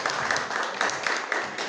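Brief audience applause for a guest rock musician on an Indonesian talk show, a short burst of clapping at moderate distance.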